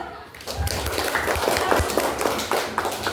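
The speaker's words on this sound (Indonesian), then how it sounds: "Tepuk tangan dulu." Students in a sixth-grade classroom clap and tap irregularly in a loose, uneven round, with thumps and some talking mixed in, at moderate volume.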